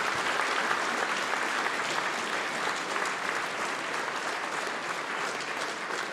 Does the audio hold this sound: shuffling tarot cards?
no